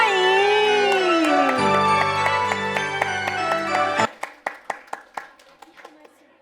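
Rhythmic, evenly spaced hand claps ring out at a Christmas Sunday church celebration, following a stretch of loud music and sounding sharp and close as the music ends.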